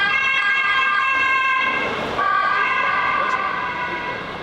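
A police siren wails steadily and loudly close by on a street, its tone shifting slightly as it passes, with traffic noise beneath.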